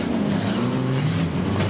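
Speedway race cars, the 351 and the 97 among them, roar together down the front straight at Waikaraka Park, engines droning loud and continuous with shifting pitch as they jostle for position.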